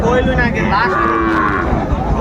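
Sahiwal cattle at Raniganj cattle market lowing loudly and close, one long sustained moo over the dense murmur of a crowded livestock market.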